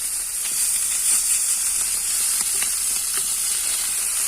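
Fish frying in a pan gives a continuous bright sizzle and hiss with scattered sharp pops and crackles, close and steady, with no one talking.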